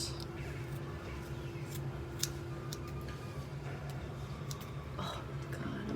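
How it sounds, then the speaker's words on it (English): Scissors snip through hair in quick, irregular clicks close to the microphone, over a low steady background hum. "I'm cutting off so much hair."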